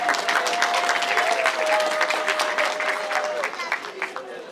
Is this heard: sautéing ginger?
no